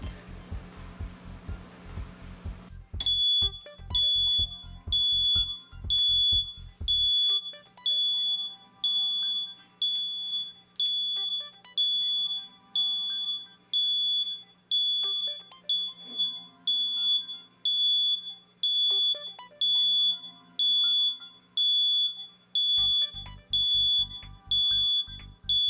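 An electronic timer beeps in a steady, regular rhythm of about twenty bright beeps while 1.25-inch geothermal pipe is held on a 500-degree heat fusion tool, with brief intermittent low noise underneath.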